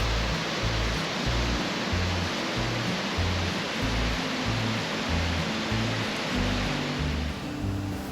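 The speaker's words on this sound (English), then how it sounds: "The Tahquamenon Falls were gorgeous, set with the backdrop of the vibrant fall colors." Tahquamenon Falls roars as a broad, continuous rush of falling water, loud and steady, with a low churning rumble beneath, backed by fall foliage.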